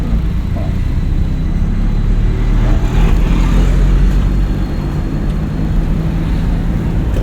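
A car drives in second gear during a driving lesson, its engine giving a steady, close low rumble and whir without any break, and no voices are heard over it.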